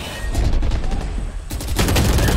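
Rapid bursts of gunfire from the video game Valorant, loud and close, with a brief lull in the middle before a dense volley resumes.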